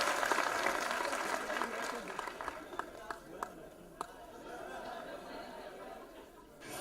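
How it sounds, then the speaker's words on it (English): An audience applauds the winning group at an NMIMS event, a short burst of dense clapping that fades into scattered claps and low crowd murmur. "Give a round of applause for them."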